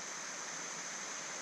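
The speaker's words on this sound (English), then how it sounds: "we're getting up here to the creek coming in" A mountain creek flows into a lake, giving a steady, faint, broadband rush of water with no breaks, heard alone.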